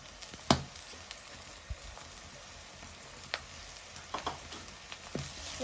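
Garlic paste hits hot oil in a pan for a brinjal and bean curry, giving a quiet steady sizzle with a few sharp crackles and pops scattered through it.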